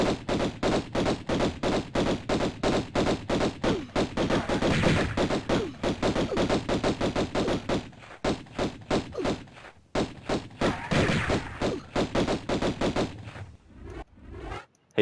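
Lara's twin pistols firing in Tomb Raider (1996), rapid repeated gunshots in quick bursts, loud and close, with brief pauses between volleys.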